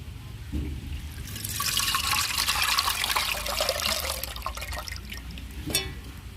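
Dissolved tamarind water is poured into a pot of dried stingray fish curry, a close, rushing splash and gurgle that swells in the middle and eases off, ending with a brief knock.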